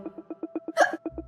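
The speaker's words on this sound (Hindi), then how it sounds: "ये हिचकी कैसे आ गई?" One person hiccups sharply, close by, against a backdrop of steady rhythmic music, with a brief low thump right after.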